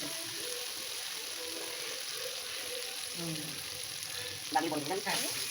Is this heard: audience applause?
no